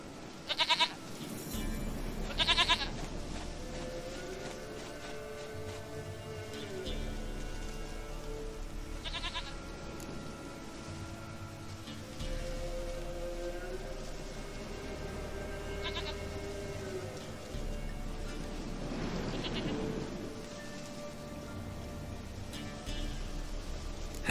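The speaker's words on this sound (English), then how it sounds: "Goat of mine, dearest, sweetest goat." A goat in The Witcher 3: Wild Hunt bleats repeatedly in a sequence of short wavering calls over a steady ambient game backdrop, with no speech.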